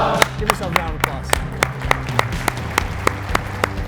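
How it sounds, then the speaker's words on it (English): An audience at a Georgia Hospital Association keynote claps in a steady, rhythmic unison beat, with crowd voices and murmur running underneath. "Give yourself a round of applause."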